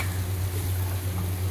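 Eggplant pieces are stirred through spices in an oiled frying pan, giving a close, continuous sizzle with a quick scrape of the utensil at the very end.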